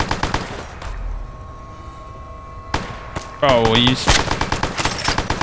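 Gunfire in Fallout New Vegas, The Lonesome Road, starting with a few sharp shots and ending in a loud rapid volley of close, crackling bursts, with a brief spoken exclamation in between.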